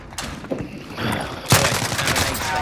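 Gunfire in the video game Call of Duty, scattered shots and bursts ringing out with a sharp loud crack near the middle, followed by continued firing.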